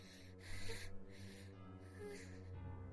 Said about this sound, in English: Behind me, I hear desperate gasping.